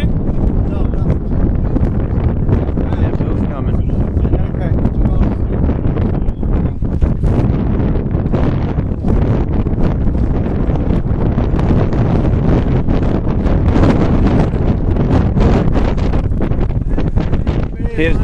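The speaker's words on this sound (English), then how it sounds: "It's so windy," Strong wind on Candlewood Lake during a bass fishing tournament roars and buffets the microphone continuously, a loud dense rumble with gusty bursts, while people talk underneath.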